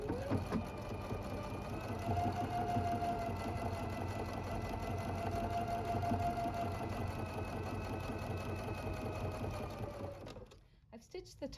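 Sewing machine stitching the top seam of a fabric wine gift bag, a close, rapid, steady mechanical whirr running about ten seconds before stopping, with faint talk in the background.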